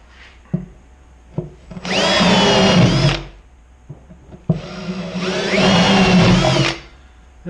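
A power drill with a 1/2 inch bit whirs through wood in two long bursts of about a second and a half each, close up, with knocks and clicks between, boring holes for a Layens beehive.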